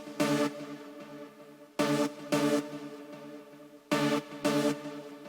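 A Dutch Style number 1 lead synth preset from Nexus 2, part of an amapiano pattern, plays short bright chordal stabs in pairs that repeat about every two seconds, each fading into a soft tail, fairly quiet and with no talking.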